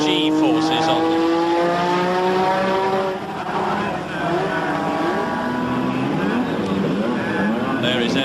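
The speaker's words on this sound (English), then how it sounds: "There is Ayrton Senna's Lotus being readied. V6 Renault engine." Ayrton Senna's Lotus Formula One car with a V6 Renault turbo engine at the 1986 British Grand Prix qualifying, a loud sustained high-revving engine note rising and falling through gear changes, with commentary spoken over it.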